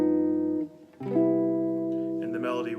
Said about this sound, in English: the sharp 5 would sound like this